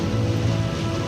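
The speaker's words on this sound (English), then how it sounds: "The rain came." Steady rain falls during a misty morning forest walk among kauri trees in Northland, a dense, continuous hiss of drops on leaves and ground, close and even throughout, with no voices.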